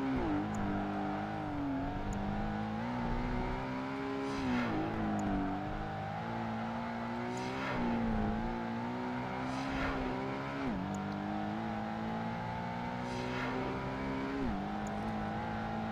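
Race car engine in Project Gotham Racing 2, a continuous loud whine rising and falling through repeated gear shifts as the car laps the track, with no talk.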